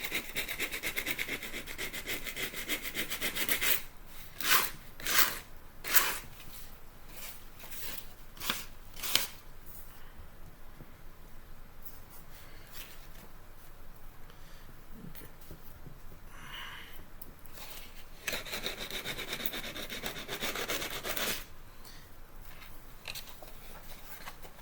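Sandpaper rubs a paper mache turkey in a quiet room, with bursts of dry scratchy strokes, some quick and rhythmic and some longer and steady, separated by short pauses.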